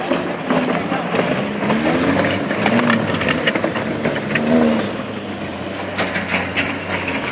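Car engine laboring and droning at an autorodeo race at a karting track, with a rising and falling revving tone over steady crowd and ambient noise, heard close and fairly loud.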